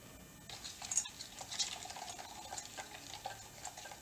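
A spoon stirs cocoa powder, sugar and a pinch of salt together for hot chocolate syrup, soft scraping and gritty swishes repeating irregularly at close range.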